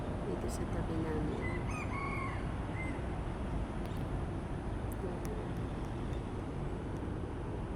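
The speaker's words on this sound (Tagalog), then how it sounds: "yun yung manok" A red rooster's distant morning crows rise briefly over constant city traffic rumble near a construction site, faint and far off, with a few scattered bird chirps.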